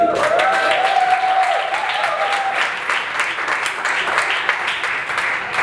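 Sustained audience applause at a live transatlantic improv performance with AI, a dense wash of clapping throughout with a brief tonal whistle early on.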